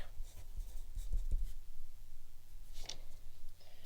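Pencil scratching across paper as a name is written on an art project, soft and close with short scribbling strokes and a faint rustle.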